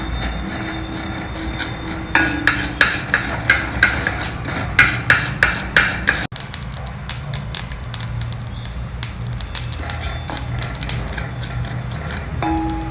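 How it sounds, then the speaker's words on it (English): Mustard seeds dry roasting in a pan, rapid pops and ticks spluttering close and continuously, with earlier rhythmic tapping and a brief clatter, no voices. "See, the mustard seeds are spluttering well."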